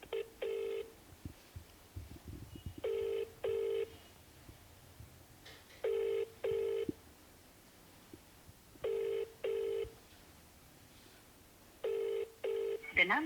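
Phone call being placed to a Madhubani MP: five repeating bursts of a paired electronic ringback tone with pauses between them, fairly clear, with faint background murmur under them.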